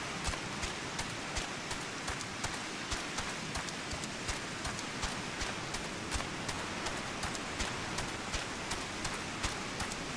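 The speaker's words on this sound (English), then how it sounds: "Man, this rain." Rain falls in Final Fantasy XIV as a continuous soft hiss, with faint regular ticks or footsteps tapping through it; no speech is heard.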